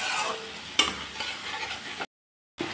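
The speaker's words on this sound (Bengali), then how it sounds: "এখন মশলাটাকে ভালো করে কষিয়ে নেব।" Spice mix with peas sautéed in a pan, a soft steady sizzle with stirring scrapes and one sharp utensil knock, cut by a brief silent gap near the end.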